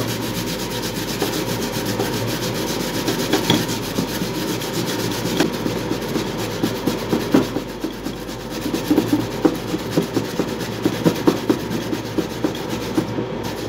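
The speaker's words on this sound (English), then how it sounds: "So I'm just going to grate this one." A root is rubbed against a hand grater for a homemade herbal remedy, giving steady rasping strokes in a close, continuous scraping rhythm that grows more clearly stroked toward the end.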